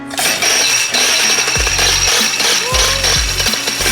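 Paramotor engine roaring during a takeoff run, a loud, rough, continuous propeller drone with rapid pulsing and bursts of wind noise, close and constant throughout.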